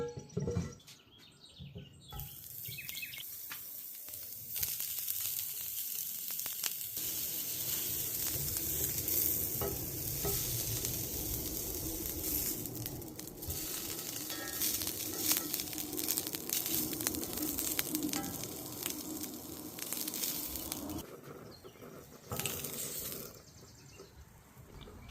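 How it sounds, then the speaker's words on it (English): Mississippi-style beef sausages browning in a hot skillet over an open flame, giving a steady sizzle and occasional stirring scrapes, with faint birdsong outdoors and no voices. "we're going to take us a hot skillet over an open flame, and then we're going to go and try to brown up our sausages on both sides"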